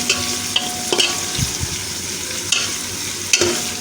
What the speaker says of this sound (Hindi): हमने टमाटर डाल दिए हैं घी में पहले, कि टमाटर जो है वो हमारे सॉफ्ट हो जाएं